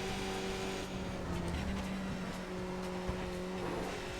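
Steady race car engine drone from the iRacing sim racing game, a sustained tonal whine holding at a constant, fairly loud level for the whole stretch with little variation in pitch, no voices over it.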